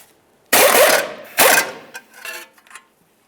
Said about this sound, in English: To remove this nut, we'll use an 18mm socket.